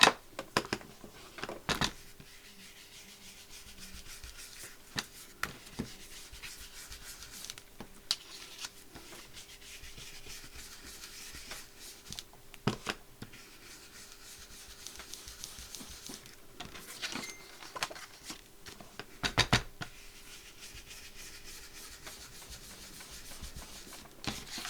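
Ink rubbed around the edges of die-cut papers for a nature journal, a quiet, repeated scuffing and brushing with short bursts of firmer strokes and small taps between them.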